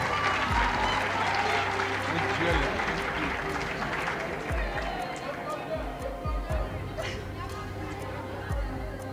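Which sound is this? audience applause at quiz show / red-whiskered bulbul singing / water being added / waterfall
audience applause at quiz show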